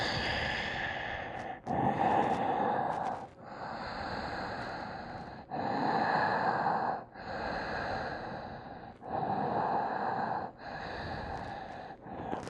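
Slow, deep breaths during a yoga forward fold with chin tucked toward the chest, long audible inhales and exhales in a steady rhythm of about six breaths, close and fairly loud with no speech.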